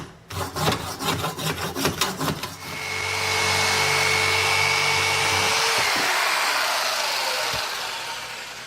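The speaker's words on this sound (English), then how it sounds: "I was like, you know what? Let me get my jigsaw." Jigsaw cutting starboard plastic, with a burst of rapid buzzy chattering strokes followed by a continuous loud motor whir holding steady for several seconds, then easing off near the end.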